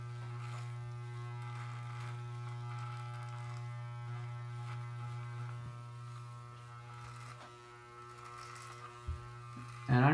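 An electric beard trimmer buzzes with a steady, faint hum during a quick beard trim, with small changes in tone as it moves through the hair and a brief louder rustle at the end.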